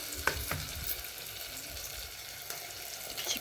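Onion, tomato and ginger garlic paste frying in a pan, a continuous crackling sizzle broken by several sharp spatula scrapes and stirs, close and fairly loud with no talking.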